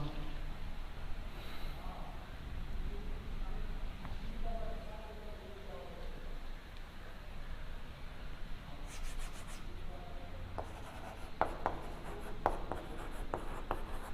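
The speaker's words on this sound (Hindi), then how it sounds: "मैं और उदाहरण लिख रहा हूँ।" Chalk or pen writing out examples on a board during a Hindi-to-English grammar lesson, a soft continuous scratching with brief rubbing strokes and occasional taps, close up, with faint breathing and room noise.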